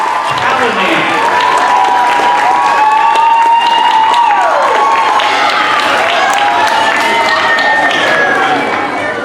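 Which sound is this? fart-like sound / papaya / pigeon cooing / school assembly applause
school assembly applause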